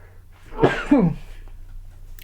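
A single close, forceful sneeze bursts out in two quick parts, followed by quiet room noise.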